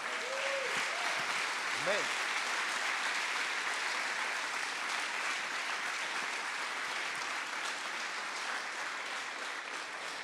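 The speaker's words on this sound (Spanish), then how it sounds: "¿Cuánto le pueden dar un aplauso al Señor por eso?" A church congregation applauds during a sermon, a steady, dense wash of clapping that fills the room without a break, with a few brief voices calling out near the start.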